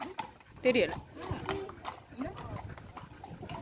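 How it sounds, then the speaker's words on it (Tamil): Two strong horses walk past nearby, their hoof clops scattered and partly masked by a person talking over them. "கிட்ட ஒரு குதிரை 2 குதிரை போகுது நல்ல வலிவான குதிரைகள் 2 குதிரை போகுது"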